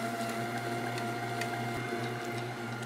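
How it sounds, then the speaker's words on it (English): An electric meat grinder works steadily through partially frozen pork at 80% lean and 20% fat, a continuous motor drone with a low hum close by and no pauses. "So let's get it into the grinder and get moving."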